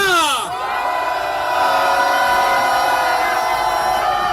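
Supporters at a Korean political rally roar together in one loud, sustained crowd cheer that holds steady for several seconds close to the microphone.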